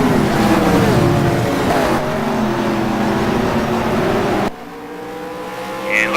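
Race cars roar through the narrow, fast corner of the Adelaide circuit: a loud, continuous multi-engine drone with shifting pitch as they accelerate, dropping to a quieter single engine note near the end, with no talk.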